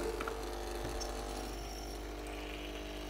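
A Senseo coffee machine brewing a strong coffee gives a steady mechanical pump hum and rattle, with a few faint clicks near the start, continuous and fairly quiet throughout.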